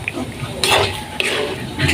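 A utensil stirs a jackfruit and shrimp dish in a pot, giving a few clanks and scrapes against the metal over a soft bubbling background, close.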